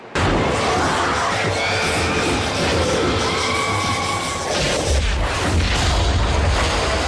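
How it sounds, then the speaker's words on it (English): A film scene has fireworks exploding out of a laser, a dense, loud wash of booming bursts and crackling pops continuing without a break, mixed with crowd noise. "Thank God they filled the laser with fireworks."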